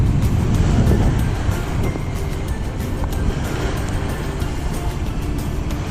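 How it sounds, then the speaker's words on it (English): Waves wash onto the shore near Pasir Kudang and Pulau Ubin, heard from a kayak as a loud, steady broadband roar with wind buffeting the microphone and no distinct individual breaks. "The sound of the waves crashing on land."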